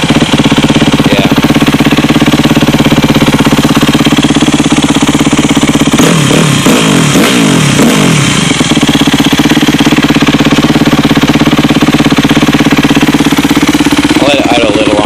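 Yamaha YZ250F dirt bike idling after a cold start, a loud close steady four-stroke chug with brief throttle blips and slight bogging midway, with people talking nearby.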